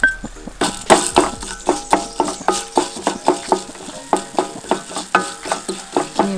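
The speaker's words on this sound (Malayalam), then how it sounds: "ആദ്യം മല്ലിയിട, ആദ്യം മല്ലിയിട." Coriander seeds frying in coconut oil for a Kerala ivy gourd chammanthi, stirred with a utensil in a pan: a steady sizzle broken by about twenty rhythmic scraping clinks, loud and close, with no talk.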